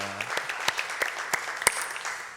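Church congregation clapping after an evening worship service, steady scattered applause with several sharper individual claps, moderately quiet in a room, a brief trailing synth tone at the start.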